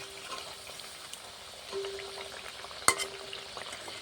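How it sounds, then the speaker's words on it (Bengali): Thekua dough pieces frying in hot oil over a high gas flame, a steady soft sizzle running throughout with one sharp clink near the end. "এইভাবে অপর পিঠটাকেও আমি ভেজে নেব"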